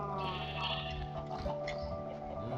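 Sheep in the video game Minecraft bleat softly over a steady bed of game sounds, with no talking.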